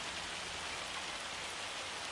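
Hail pelting down in the Farming Simulator 25 game on an Irish farm map, a steady dense hiss of drumming impacts with no pauses, fairly loud and continuous, with no voices.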